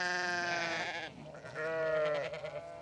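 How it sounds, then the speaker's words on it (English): Sheep grazing on a levee bleat in a long wavering cry, then a second drawn-out bleat, moderately loud and fairly close, with no talk. "I am shocked to see sheep."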